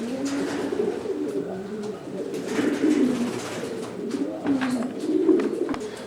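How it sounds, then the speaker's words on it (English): Delbar racing pigeons coo steadily inside a loft stock section, a continuous layered murmur of several birds close by with rolling coos rising and falling throughout. "This section contains Delbar pigeons."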